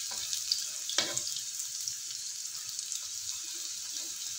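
Instant noodle fritters made from boiled fried-noodles, egg and sliced carrot fry in hot oil, a steady bright sizzle throughout with a few soft clinks early on and no talking.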